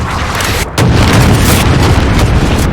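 A loud, sustained rumbling blast of noise with a brief dip, then continuing roar, a cruise missile explosion in Call of Duty: Modern Warfare on the Crash map.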